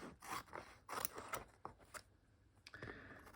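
Scissors snip through gel-printed paper for a stitch book, trimming off the overhanging edge: a run of close, crisp cuts and rustles, moderately quiet, with a few separate snips near the end and no talking.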